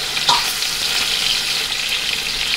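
Beef short ribs brown in a pot, a steady close sizzle and crackle of searing meat running without a break.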